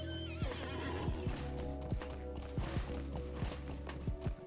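A horse in a video game whinnies and then trots, its hooves clip-clopping in a steady, fairly quick rhythm that runs through to the end.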